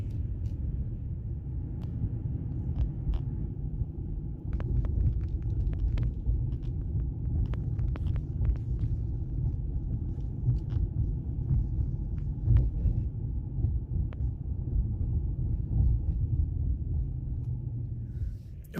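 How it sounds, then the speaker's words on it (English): An Infiniti G37 car drives through a park at night, heard as a steady low engine and road rumble from inside with faint ticks and clicks scattered throughout. "we'll just go for a little ride here with the lights on"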